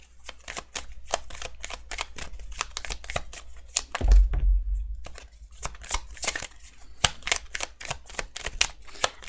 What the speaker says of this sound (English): I didn't mean to keep shuffling, but we're going to keep shuffling then